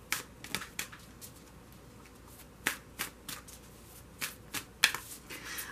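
Tarot cards are shuffled by hand in quick, soft riffling bursts, close and fairly quiet, with short pauses between flurries and no talking.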